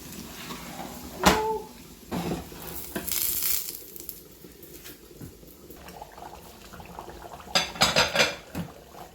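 A spoon pushes okra across a metal cooking pot for Nigerian egusi okra soup: sharp clanks and scrapes at the start, a quieter stretch with faint sizzling, then a quick burst of rattling knocks at the end.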